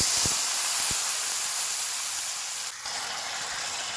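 Water hits a hot pan of frying onion, chilli, turmeric and small green mango masala for a tengra fish curry, setting off a loud, continuous close-up hiss and sizzle that barely fades.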